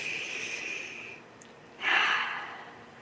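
A single slow, deep breath taken close to the microphone, a long airy inhale followed after a short pause by a louder, fuller exhale, with no talking over it.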